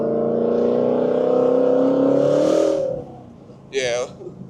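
A 2018 Ford Mustang GT350 engine drones and builds under load while driving, a sustained rising exhaust note that cuts off abruptly, followed by a brief sharp burst; a voice is also present.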